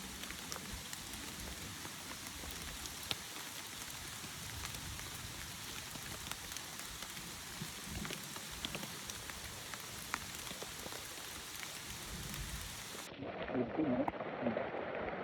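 Dense rain falls steadily on Mount Aural, Cambodia, for most of the clip, a constant hiss of drops on surfaces, then cuts to a muffled moment with a voice at the end.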